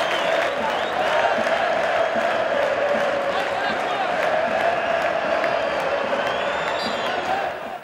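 A packed stadium crowd applauds and cheers continuously at a football match in Brazil as veteran footballer Euler leaves the pitch in his farewell, a dense, steady roar with whoops rising through it.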